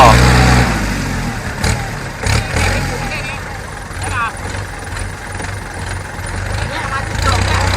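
A heavy truck engine runs loudly and steadily, revving and held at high revs, swelling as it revs, with people talking over it.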